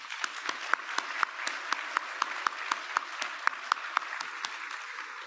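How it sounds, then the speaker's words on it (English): Audience applause at an academic awards celebration honoring an all-state class, a steady wash of many hands clapping with distinct sharper claps standing out, continuous and fairly even throughout, no voices. "Let's give everyone a round of applause."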